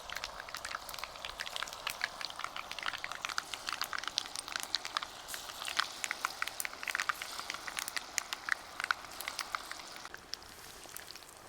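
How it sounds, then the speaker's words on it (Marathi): Coriander vadi fry in hot oil in an iron pan, giving a dense, faint crackle of tiny pops and spatters that is steady throughout and fades slightly at the end, with no talking. "तेल गरम झालंय आपलं वड्या सोडून घेऊ"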